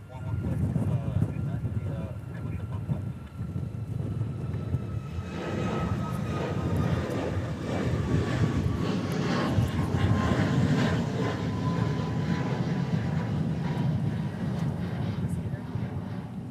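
A Southwest airliner departs Honolulu airport, giving a steady, broad jet roar that swells slightly and holds throughout, heard from a distance outdoors with a voice talking over it at times.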